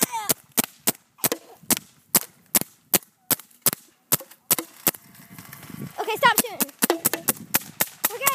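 A paintball gun fires a long series of sharp, loud pops at a quick, steady rhythm outdoors, then keeps shooting while young voices shout and talk over the shots.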